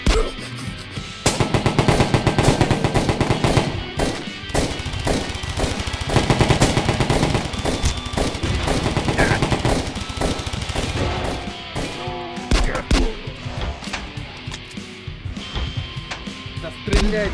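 Gunfire in the video game Slaughter 3: loud, dense bursts of rapid automatic fire with heavy single shots, continuing almost without a break, with voices talking over parts of it.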